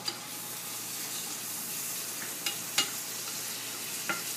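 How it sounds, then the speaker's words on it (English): Shallots sautéing in a pan with steady low sizzling, stirred by a wood spatula with a few scraping knocks against the pan. "wood spatula to move it around. You want to cook it until the onion is translucent"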